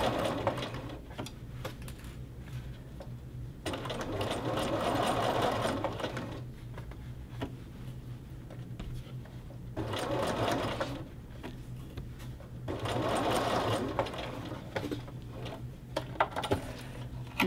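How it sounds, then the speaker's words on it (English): A sewing machine bastes a men's shirt collar in repeated bursts of fast whirring stitching, close and steady, with short pauses between runs and no talking. "You just baste it holding the edge up there."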